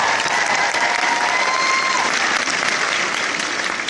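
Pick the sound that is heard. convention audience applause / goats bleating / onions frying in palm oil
convention audience applause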